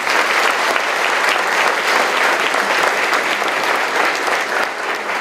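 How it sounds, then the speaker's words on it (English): A breakfast-event audience at a school district gathering claps loudly and continuously in a thick, sustained ovation with no talk over it. "Let's give ourselves a round of applause for that."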